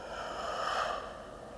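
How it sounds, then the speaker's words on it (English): A single long, audible inhale through the nose during Tai Chi practice, close and soft, swelling and fading over about a second and a half. "Breathing in."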